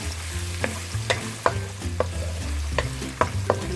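Garlic and ginger paste, two spoonfuls, sizzling in hot oil in a karahi, with a steady fry broken by repeated sharp stirring scrapes and clinks of a utensil against the pan.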